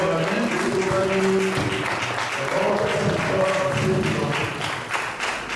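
A church audience applauds and acclaims as a pastor is welcomed. The cheering is broad and steady throughout, with a few sustained tonal voices or instrument notes mixed into the crowd sound.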